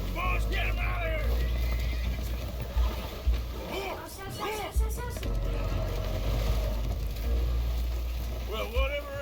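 Spooked horses neigh and whinny aboard a damaged, leaking boat in the video game Red Dead, several shrill cries breaking out over a loud, low rumble of engine and water, with voices speaking throughout.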